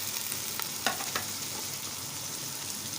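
Onions and tomatoes hiss and sizzle in hot oil as they go into a pan of frying dal with bitter gourd, a steady soft crackle with a few brief stirring clinks near the start.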